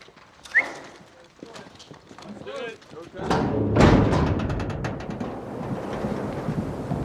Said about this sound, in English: Everybody keep their horses inside the gate.